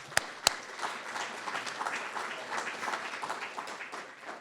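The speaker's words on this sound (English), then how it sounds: "So, applause." An audience at an art event applauds steadily at moderate volume, a soft continuous wash of clapping with a couple of sharp claps close by at the start.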